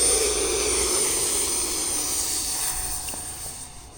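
An E-flite Habu 50mm electric ducted-fan RC jet taking off with a loud, steady high-pitched whine that slowly fades as it climbs away.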